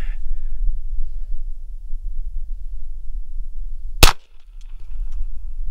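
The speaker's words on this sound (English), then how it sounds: "Let's shoot it a few times" A single sharp crack from a Volquartsen Scorpion pistol fired at a dueling tree stands out loud and close over steady low outdoor rumble and wind.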